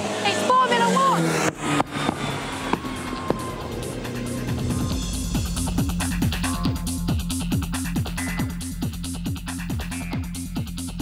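A Formula One car at Aintree Raceway, engine revving and accelerating with rising and falling pitch sweeps through gear changes, loud and near, with someone talking over it.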